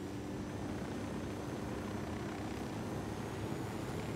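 Seaplanes fly in the video game Ghost Recon Wildlands, a faint, even engine drone that holds steady throughout with no voices.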